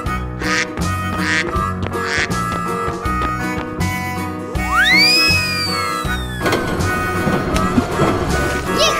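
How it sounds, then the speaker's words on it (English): A cartoon duck quacks in a short series of bright, squawky calls, followed by a rising whistle and busier musical sounds, loud and close in a children's animal colouring animation. "Duck."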